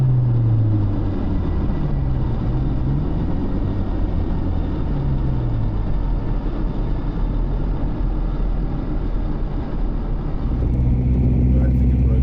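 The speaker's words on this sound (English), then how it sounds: "Nervously power shifting to third." A turbocharged Ford Capri's engine drones loudly and steadily from inside the car as the driver power shifts into third gear, with the engine tone sweeping and shifting throughout.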